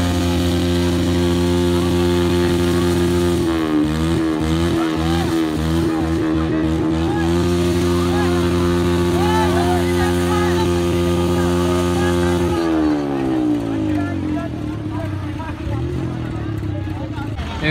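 A tractor engine runs nearby with a steady, throbbing mechanical drone. The revs waver in the middle and then settle lower toward the end, with voices faintly present in the background.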